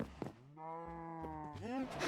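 A Minecraft cow lets out a long, drawn-out moo with a steady pitch, followed by a shorter rising moo, both loud and close in the game.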